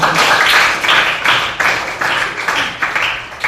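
An audience claps in a burst of applause, quick dense rhythmic hand claps at a steady level throughout, close and fairly loud with no talk.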